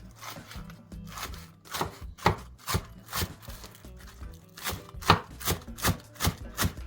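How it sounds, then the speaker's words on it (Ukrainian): A knife finely chops a bunch of green onions on a board, a steady run of crisp rhythmic taps, close and fairly loud, with no talking. "Тепер беремо пучечок зеленої цибулі та дрібнесенько нарізаємо його."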